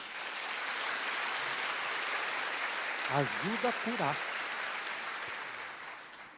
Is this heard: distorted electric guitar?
no